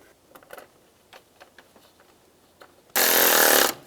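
A power tool briefly whirs, driving in the fan screws on a 2005-2007 Ford Five Hundred, one loud burst of under a second after a few soft clicks and handling noises.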